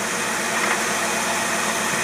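Buick engine fitted with a Carter AFB carburetor runs at a steady idle, an even, close mechanical hum with faint knocking texture and no voices.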